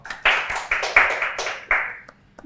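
A studio audience at a Mirchi Plus interview claps for the whole team in a short burst of close, overlapping handclaps that fades out within a couple of seconds.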